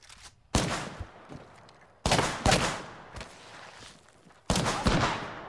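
Apex Legends gunfire: three loud bursts of rapid weapon shots, each cracking in sharply and tailing off, spaced about two seconds apart, with quieter game sounds between, no voices.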